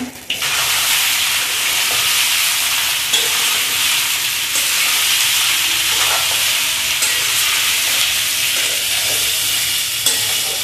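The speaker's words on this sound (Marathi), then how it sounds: "त्यानंतर आता ह्याच्यामध्ये मी बटाटे जे चिरून घेतलेले आहेत ते बटाटे ऍड करते।" Chopped potatoes added to a pan over medium heat for a Marathi-style potato bhaji, giving a steady, loud sizzle with stirring that holds evenly throughout, with no voices.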